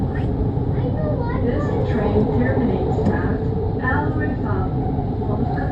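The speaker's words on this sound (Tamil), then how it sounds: "அங்கே ட்ரெயின் வருது பாருங்க, ஆப்போசிட்டில்." A metro train arriving at a Doha station rumbles steadily with a deep, continuous roar, voices murmuring faintly underneath.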